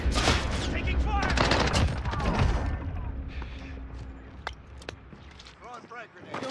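Gunfire in the Call of Duty Warzone video game, dense bursts of automatic fire up close, thinning into scattered single shots and game effects, with talking over it.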